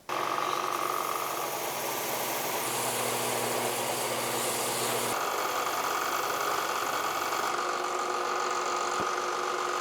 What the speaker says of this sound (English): First, I'm gonna sand the top flat.